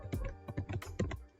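Quick keystrokes on a computer keyboard as a web address is typed, about ten crisp, close clicks in a rapid, uneven burst, faint and alone.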